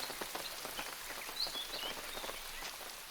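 Steady morning rain patters on surfaces around an African bush camp, a soft continuous hiss of drops with faint bird and frog calls in the background and no voices.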